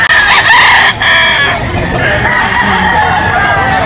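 Gamefowl roosters, mostly Bullstag, crow loudly and close by at a market in Bulacan, Philippines, several calls overlapping, with clucking and a busy farmyard murmur underneath.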